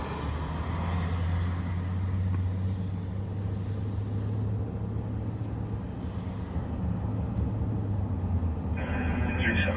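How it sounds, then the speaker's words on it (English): Cars pass on a nearby road at night during a patrol, a continuous low rumbling traffic drone filling the background at steady level, with a brief brighter hiss near the end. "We can hear some cars on Payne"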